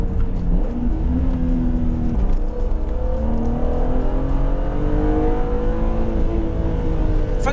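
A BMW Z3 M Coupé engine accelerates on a test drive, a loud close-up rising drone as the revs climb and fall, heard from inside without talk.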